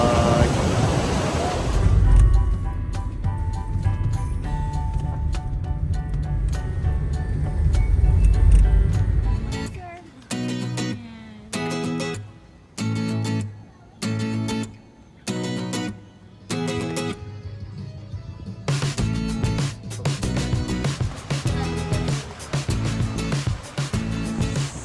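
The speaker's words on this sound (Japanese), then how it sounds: "吹割の滝からでした。" Roaring water at Fukiware Falls in Japan, a loud, steady rush for the first ten seconds, then cut into short bursts of water noise between quieter gaps.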